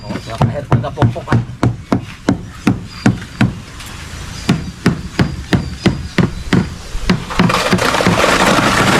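Steady hammer blows strike wood during house construction, around thirty sharp, evenly spaced knocks at close range, ending in a louder wash of background noise.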